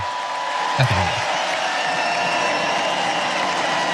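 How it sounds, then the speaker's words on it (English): Convention crowd applauding Ted Cruz at the Republican National Convention, a steady wash of clapping heard at a distance, moderately loud and continuous, with a brief low thump early on. "look at people enthusiastically applauding"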